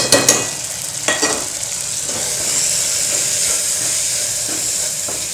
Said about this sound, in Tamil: அடுத்து நம்ம எடுத்து வச்ச மிளகாத்தூள், மல்லித்தூள், ஜீரகத்தூள், மஞ்சத்தூள் அதை இதில் சேர்த்துடலாம்.